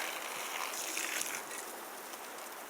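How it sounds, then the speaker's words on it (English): Water pours steadily from a Ghillie kettle outdoors in winter, a continuous splashing hiss that stays fairly even throughout with no talking. "you hang onto the handle, you grab the cap, and you can pour"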